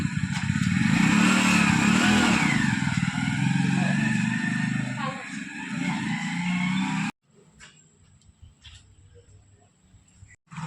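A Hero HF Deluxe motorcycle engine runs close by for about seven seconds, a steady buzzing drone with slight rises in pitch, then cuts off abruptly, leaving quieter background noise with faint clicks.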